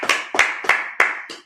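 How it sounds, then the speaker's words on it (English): A congregation at a Sabbath service claps hands in unison: five sharp, evenly spaced claps, close and crisp, with no voices. "Clap it up."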